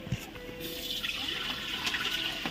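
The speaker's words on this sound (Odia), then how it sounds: "ଏବେ ଆମେ ଚୁଲିରେ ହାଣ୍ଡି ବସାଇବା ଏବଂ ହାଣ୍ଡିରେ ଦେଇଦେବା ପାଣି" Water poured into a cooking pot set on a village stove, a steady splashing trickle running continuously and close by, with no voices.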